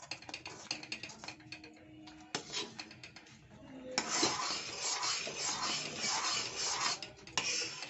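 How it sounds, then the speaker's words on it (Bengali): Scraping and stirring of a thick, thickening mixture in a kadai (wok), a steady run of close rubbing and clinking strokes that grows denser and louder partway through. "ঘন হয়ে এসছে এখন। এটা সমানে নেড়েই যেতে হবে।"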